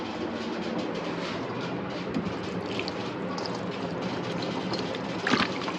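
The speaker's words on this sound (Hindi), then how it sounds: "अब हम इसको अच्छे से वॉश कर लेते हैं।" Salted, vinegar-marinated mutton pieces are rinsed under running water in a kitchen, a steady close rushing and splashing of water with no speech.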